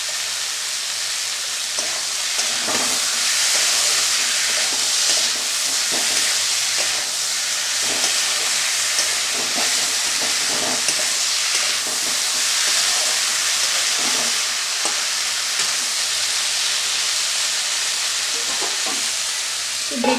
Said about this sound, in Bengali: এবারও কষিয়ে নেব ভালো করে।